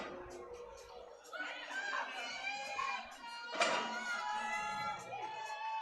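A crowd at a weightlifting meet screams and cheers for a lifter, a loud wash of shouting, chatter and laughter that swells and peaks midway and stays lively to the end.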